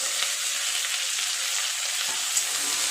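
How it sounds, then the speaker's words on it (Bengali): Capsicum, onion and green chillies sizzle steadily in a hot pan, a constant close crackling hiss with occasional faint stirring scrapes. "ক্যাপসিকাম আর পেঁয়াজ ভালোভাবে ভাজা হয়ে গেছে"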